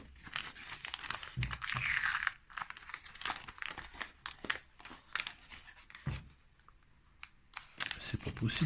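A Pokémon 25th anniversary Happy Meal booster pack is torn and pulled open close up, with bursts of loud crinkling and tearing foil that stop briefly partway through before resuming, and a voice heard at moments.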